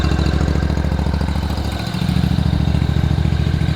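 A Toro Grand Stand MultiForce stand-on mower with a 26-horsepower engine runs steadily nearby, a constant mid-low drone with a slight dip partway through and no talk over it.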